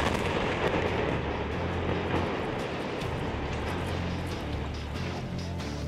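A bomb blast in Lebanon produces a loud, sustained, deep rumbling roar with rough crackling texture throughout. No single sharp onset stands out.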